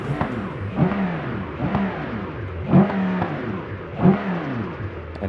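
Custom car engine in the BeamNG driving game revving repeatedly while still cold, each blip rising and falling in a steady rhythm of about four revs, held back from climbing higher, close and alone.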